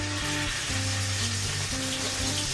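Beef searing in a pan of hot bacon grease and olive oil, a steady, dense sizzle that carries on evenly throughout with no voices over it.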